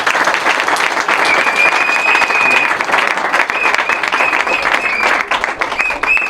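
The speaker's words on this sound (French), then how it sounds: "que je demande d'applaudir fort ici." Political rally crowd in Gabon applauding loudly for candidate Ali Bongo Ondimba, dense sustained clapping close up with a few whistles and scattered crowd voices.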